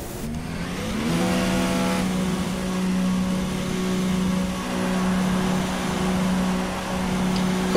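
Formula 1 car engine in the video game F1 2016, rising from a low rumble into a sustained loud high-pitched drone that holds steady with slight wavering, dominating throughout.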